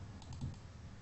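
Quiet keystrokes on a computer keyboard, a short run of soft clicks close by over faint room hiss while entering a spreadsheet formula.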